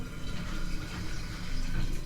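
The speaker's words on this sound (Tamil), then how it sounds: "அந்த தோலெல்லாம் ட்ரைன் பண்ணிவிட்டு." Water running and splashing steadily, close and fairly loud, as soaked ripe banana peels are drained in a kitchen, with no voices.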